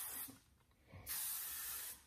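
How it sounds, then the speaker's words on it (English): Two bursts of hairspray aimed under lifted curly hair: a short hiss at the start, then a longer, louder, steady spray lasting nearly a second, both close. "Whenever using hairspray, I like to, you know, kind of lift the hair and spray underneath."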